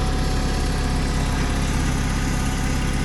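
A used forklift engine idles steadily at close range, a continuous low rumble with even vibration and no talk over it.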